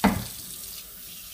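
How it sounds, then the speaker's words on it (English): Water runs from a tap into a sink, a steady hissing splash that starts with a brief gush. "Fill your sink up."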